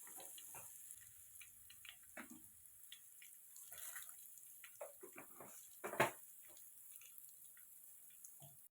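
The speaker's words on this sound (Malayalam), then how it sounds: "എണ്ണ ചൂടാകുമ്പോൾ അതിലേക്ക് കടുകും ഉലുവയും ഇടുക" Faint crackling and spitting of mustard and fenugreek seeds frying in hot oil, with scattered pops and sizzles over a quiet background and one sharper burst midway.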